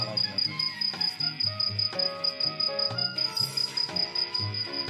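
A cricket chirps in rapid, regular high-pitched pulses throughout, loud and close, over faint background tones.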